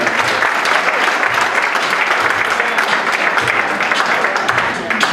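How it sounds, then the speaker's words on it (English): A cabaret show audience applauds steadily and loudly throughout, a dense wash of clapping with no pauses. "Big round of applause for Tyler."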